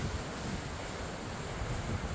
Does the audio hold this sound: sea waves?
yes